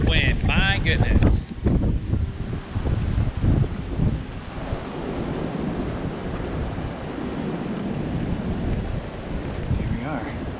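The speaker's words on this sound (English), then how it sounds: "Listen to that wind, my goodness." Strong cold wind blowing across a trail in the Catskill Mountains, a loud, steady roar with buffeting on the microphone that continues throughout.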